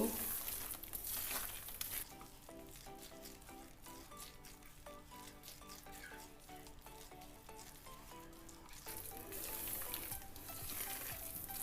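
Besan barfi mixture with cardamom powder is stirred in a pan, giving a steady sizzle and soft scraping throughout, louder at the start and end, with faint tonal music underneath.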